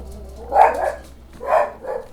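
A dog named Major barks in a video game, two loud close barks spaced about a second apart, each with a short follow-up yip, alone with no talk.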